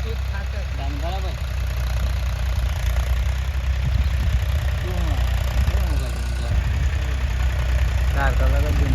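A tractor engine runs steadily while ploughing a field in Gujarat, a continuous low rumble that stays loud throughout, with people talking over it.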